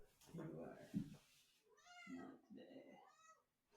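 A cat meowing in a quiet indoor room, two drawn-out pleading meows with a brief pause between, heard over soft nearby talk.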